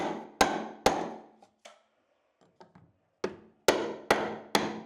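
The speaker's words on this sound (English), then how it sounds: "After hammering the top shelf off, look." Sharp hammer blows knocking a shelf off a farmhouse wall, a pair at first, then a few light taps, then a quick run of four loud knocks, each ringing briefly.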